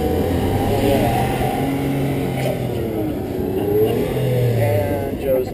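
Porsche Carrera 4 and Carrera 2 pulling away from a standstill side by side, engines droning and rising in pitch over a continuous background while people talk.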